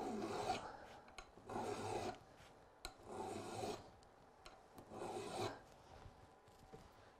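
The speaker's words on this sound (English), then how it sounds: "Make sure you're doing long, even strokes with the file." Hand file strokes sharpening the pick of an ice climbing tool: four long, even rasping passes in a regular rhythm, close and fairly quiet, with short pauses and light clinks between strokes.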